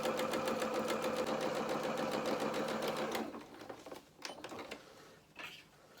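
A sewing machine stitches doll bloomers with a steady, fast mechanical whir and rhythmic needle clatter, running loud and close for about three seconds before stopping, followed by soft handling noises.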